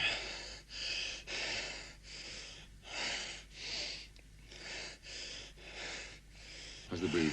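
A person recovering after passing out breathes heavily in long, even, rasping inhales and exhales, close and steady, repeating about ten times with no words spoken.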